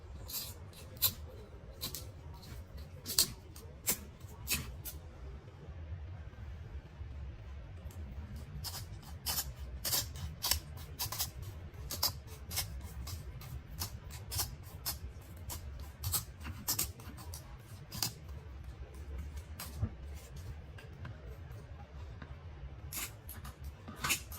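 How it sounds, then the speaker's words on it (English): Scissors snip away skin while preparing green egusi soup, giving sharp, close clicks in an uneven steady series over a low background hum. "So right now I'm just going to trim off all the skin."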